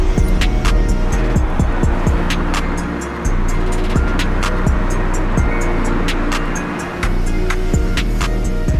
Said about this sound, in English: Over 6 million vehicles clog the streets of the Mexican capital.